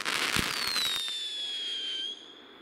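A fireworks battery fires nearby with a dense burst of cracking pops, then a long whistling tail that slowly falls in pitch and fades over a couple of seconds, with no voices.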